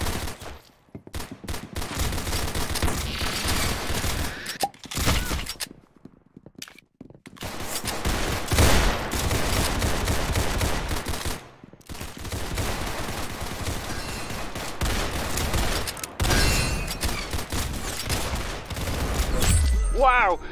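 Dense automatic gunfire from the Roblox game Arsenal rattles loudly in long sustained bursts, broken by a few brief silent gaps, with a voice talking over the shooting.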